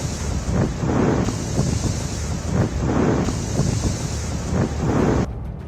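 Cyclone Biparjoy drives gusty wind and pounding sea waves against the coast. Heavy wind buffets the microphone in surging bursts, with waves crashing in repeated swells, loud and continuous throughout.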